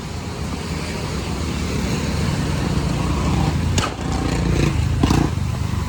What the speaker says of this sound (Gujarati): બુલેટના ફટાકા બોલે છે